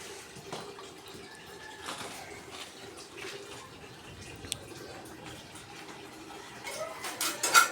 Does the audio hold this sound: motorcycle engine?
no